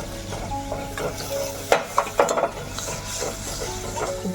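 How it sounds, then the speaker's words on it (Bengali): Spice paste sautéing in a pan for Bengali-style crab curry gives a steady low sizzle, broken by a few short scraping stirs near the middle. "ভালো করে এবার আমি মশলাটা কষিয়ে নেব"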